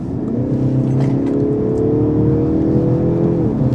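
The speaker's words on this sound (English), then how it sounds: "And let's give it full throttle here." A Mercedes-Benz CLE 300 coupé accelerates at full throttle, its engine note heard from inside the cabin as a loud, steady, rising drone that climbs smoothly in pitch and then eases off briefly near the end.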